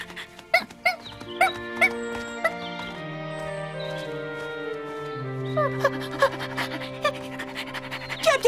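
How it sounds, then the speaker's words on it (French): A small cartoon dog pants in short, quick breathy bursts over a bright, melodic music track. "Tu es un gentil chien"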